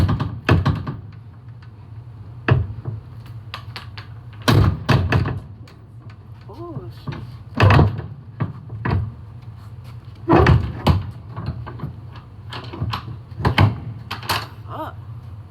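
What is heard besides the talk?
rusty truck trailer doors being opened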